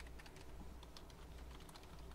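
Rapid typing on a computer keyboard, a dense run of light keystroke clicks at a steady pace over low background hum, with no voices.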